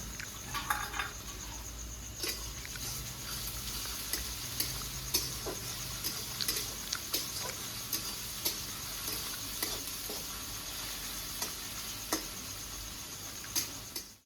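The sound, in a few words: boiled ginger, garlic and green chilli paste sizzling in pan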